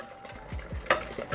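Breadfruit pieces drop into a pot of boiling water, giving a few soft splashes and plops with a brief clatter, close and moderately loud against a steady bubbling hiss.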